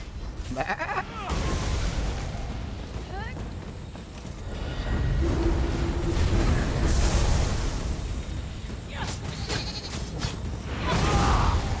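Sheep bleating in the video game Elder Scrolls Online, several calls amid game effects and clopping hooves, heard under someone talking.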